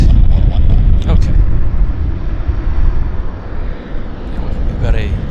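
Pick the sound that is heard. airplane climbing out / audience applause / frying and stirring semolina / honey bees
airplane climbing out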